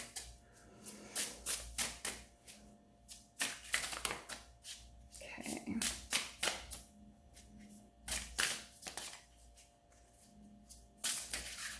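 A deck of tarot cards is shuffled by hand in quick crisp riffles and flicks, quiet and close, with short pauses between bursts and a voice speaking briefly.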